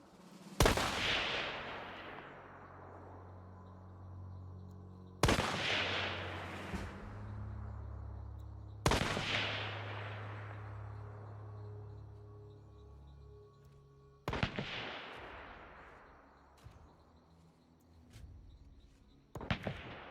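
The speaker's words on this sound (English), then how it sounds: "you can kind of click and hear what these weapons sound like when firing, and you can hear the differences in how they sound from different ranges" Weapons fired one at a time in Hunt: Showdown, five sharp shots, each decaying into a long ringing echo across the quiet, with the later shots sounding a little more distant.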